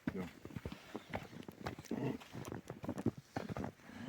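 Hooves of a mare and her foal clip-clop on hard ground at a smithy in an uneven rhythm, mixed with people talking and some background noise.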